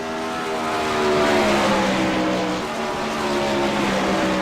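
A race car in a racing video game runs high along the wall on race fuel with three negative wings, its engine a steady, loud, continuous drone with layered harmonic whine and no talking.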